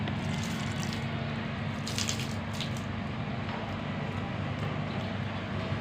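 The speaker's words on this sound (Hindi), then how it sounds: "पानी देते हैं पौधों को।" Water running and splashing steadily while plants are watered outdoors, a constant gushing stream with a few brighter splatters, heard up close with no voices.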